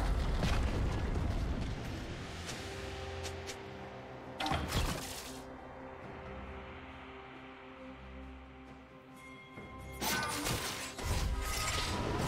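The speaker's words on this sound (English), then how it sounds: "Red team's turret has been destroyed." A turret being destroyed in League of Legends: loud crashing, explosive bursts with debris rumble, one near the start, another midway and a third near the end, over busy game ambience.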